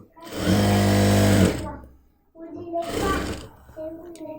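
A sewing machine runs in two bursts while stitching a front-slit kurti, a loud steady whir of about a second then a shorter run after a pause, with a voice speaking around it.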